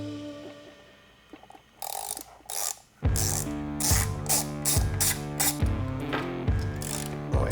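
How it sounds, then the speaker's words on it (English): A hand ratchet loosens axle bolts on a Onewheel GT, with a few light clicks and clatter followed by a run of loud, regular ratcheting clicks close by. "We're going to be taking out the axle bolts of the motor cable side,"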